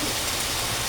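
Heavy rain during a typhoon pours down in a loud, dense, unbroken hiss that fills the short clip with no other sounds.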